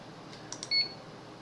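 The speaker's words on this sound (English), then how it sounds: "you heard it beeping again, right?" An ESP32 board gives a short, faint electronic beep as a browser request arrives, set among quiet room background with a couple of small clicks just before.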